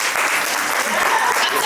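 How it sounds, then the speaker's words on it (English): Audience at a literary showcase claps together, a brief, loud, close burst of many hands with a voice running underneath. "clap if you have a son."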